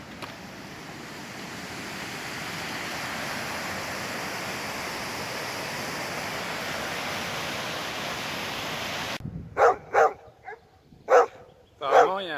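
A steady rushing noise like wind or surf fills most of the clip, then a dog barks several times near the end.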